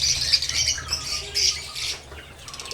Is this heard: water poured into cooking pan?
no